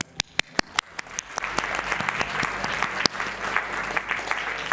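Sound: audience applause at the end of a summit

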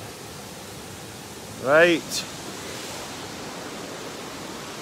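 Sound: waterfall

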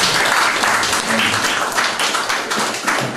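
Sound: audience applause welcoming a guest

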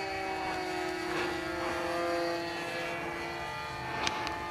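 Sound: airplane engine during high-speed flight

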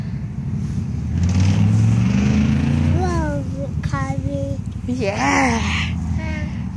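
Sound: car driving past

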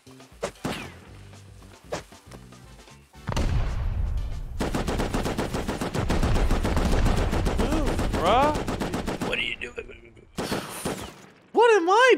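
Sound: gunfire in a video game raid

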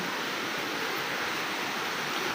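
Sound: rushing water

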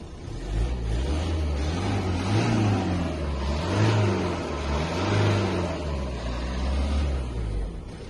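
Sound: 2009 Ford Focus estate car engine revving

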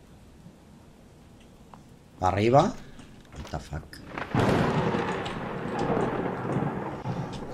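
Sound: thunder in video game Blair Witch

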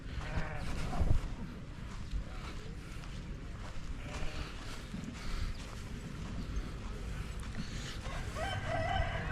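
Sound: sheep on a farm

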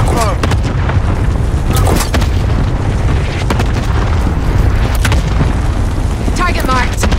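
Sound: cluster strike explosions in Call of Duty Modern Warfare II video game

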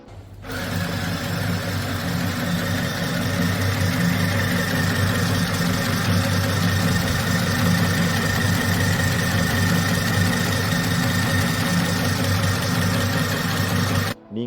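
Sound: Chillaxplus mini sewing machine winding thread onto bobbin

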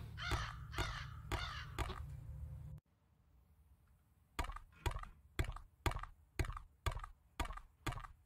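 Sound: crows cawing in video game Sense: A Cyberpunk Ghost Story

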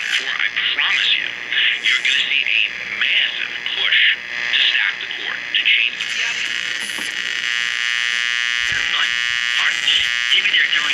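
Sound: Sansui 661 stereo receiver picking up AM radio static

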